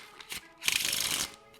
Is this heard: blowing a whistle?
no